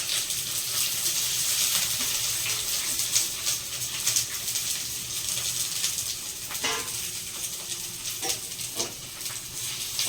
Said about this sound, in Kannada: ಈರುಳ್ಳಿ ಕಟ್ ಮಾಡಿ ಇಟ್ಕೊಂಡಿದ್ದೆನಲ್ಲ ಅದನ್ನು ಹಾಕೋತಾ ಇದ್ದೀನಿ.